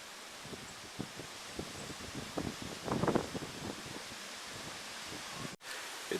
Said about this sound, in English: It's so windy and cold that most of the hens aren't even coming out.